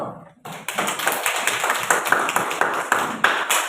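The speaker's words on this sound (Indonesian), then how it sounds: "Kasih aplaus dulu" Children applauding in a classroom, a short burst of brisk, close clapping after a brief pause, rising quickly and holding steady for a few seconds.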